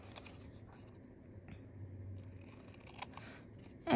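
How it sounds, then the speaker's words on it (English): Paper is cut with scissors at close range while making cat-shaped craft bookmarks, faint quiet snips and soft scraping in short irregular bursts against a hushed background. "So I'm going to cut along the lines that I made."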